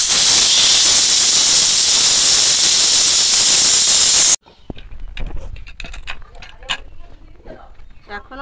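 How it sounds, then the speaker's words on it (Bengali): A pressure cooker cooking chicken curry vents its steam in a loud, continuous hiss lasting about four seconds, then cuts off abruptly, leaving quiet kitchen clatter and soft handling noises. "এবার এর বাষ্পগুলো বের করে নেবো আগে।"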